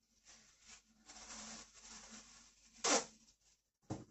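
Plastic bag crinkles and rustles as dough is put into it, with a sharp louder crackle near the end and a brief pause before another rustle.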